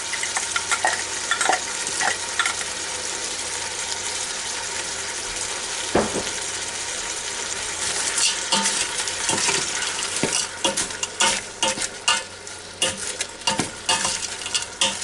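A frozen three-pepper and onion blend sizzles and fries in a pan with meat, a continuous loud sizzle broken by scraping stirs and clinks of the utensil that grow busier toward the end.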